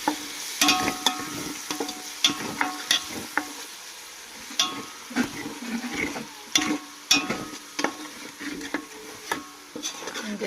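Onion, tomato and ginger paste masala for coriander mutton fries in a pan, with a steady sizzle under repeated clattering strokes of a spoon stirring and scraping the pan.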